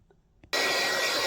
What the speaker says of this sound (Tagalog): Mag-blower.